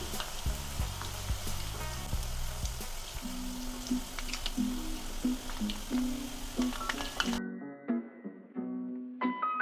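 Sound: murukku deep frying in oil

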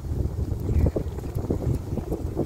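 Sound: wind blowing on a boat while fishing in an estuary

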